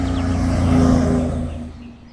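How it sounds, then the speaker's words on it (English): A car driving on a short trip to a letterbox, its engine hum steady and fairly close before fading away over a couple of seconds, with no talking. "I have to drive to my letterbox."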